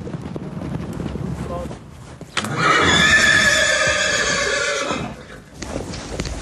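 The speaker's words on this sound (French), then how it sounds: "Pour Philippe, le pur sang arabe et le cheval roi" An Arabian purebred horse lets out a loud, drawn-out whinny lasting about three seconds, close by, framed by quieter stable noise, wind rumble and a few soft hoof sounds before and after.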